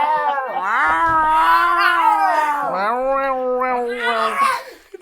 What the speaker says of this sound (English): It's from the internet. It's an angry cat.